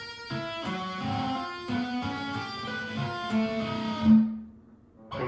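A slow electric guitar tapping riff with clear ringing notes moving up and down, played alone and fading out at the end.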